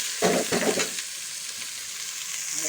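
Onions sizzle in a hot pan of oil for an okra dish, a few bursts of crackling at the start that settle into a quieter, steady frying hiss, with no voice present.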